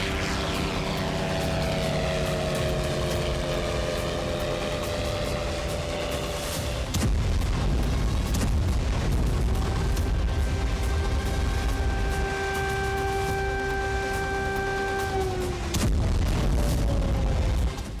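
Drone strike blasts hit a Russian oil depot in Kaluga, heard as loud, rumbling booms over a droning aerial engine whine with rising and falling tones, the din continuous and heavy throughout.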